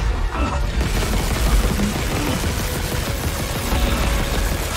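Rapid gunfire from weapons in the Dead Space video game, a dense, loud run of overlapping shots and impacts that carries steadily through the whole stretch without a break.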